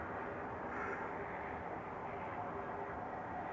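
A propeller aircraft taxis at Manchester Airport, heard as a faint, distant, continuous low grumble that stays level throughout with no talking.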